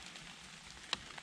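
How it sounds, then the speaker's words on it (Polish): Rain falls steadily through a forest during autumn mushroom picking in the Kraków-Częstochowa Jura, a soft, even patter with one sharper nearby drop hitting partway through. "Bardzo dzisiaj pada deszcz."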